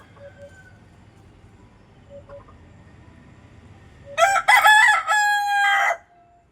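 Country chickens in a rural yard: after a quiet stretch with faint distant bird calls, a rooster crows loudly and close by in a couple of strong, drawn-out bursts.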